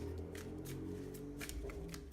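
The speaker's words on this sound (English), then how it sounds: "So just do a quick shuffle here on Aquarius for the new moon month" Tarot cards are shuffled in quick, close riffling bursts, a run of soft papery flutters and taps, quiet and alone with no talking.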